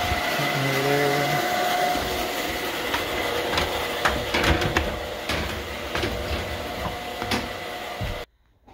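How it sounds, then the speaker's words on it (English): A water pump runs during a tankless water heater installation in an off-grid home, producing a steady mechanical drone with whine tones, scattered clicks and knocks, then cutting off abruptly near the end. "the pump just had to run a little bit"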